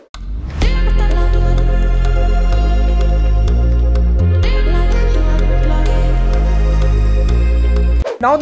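Anime-style bass house intro built in FL Studio, with vocal chops and a reused synth preset over a steady thumping beat and deep bass, loud and continuous, briefly dropping out midway before picking back up.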